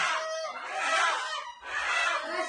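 Two loud, close rooster calls in a row, each a harsh, drawn-out crowing cry, with no talking.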